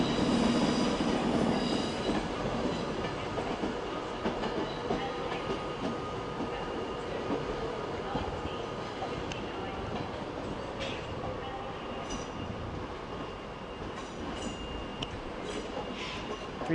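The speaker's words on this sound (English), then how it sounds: "Meanwhile, Pendolino has arrived." A Pendolino train arriving at Manchester Piccadilly station, its steady rumble filling the platform, with faint wheel squeals and distant station noise.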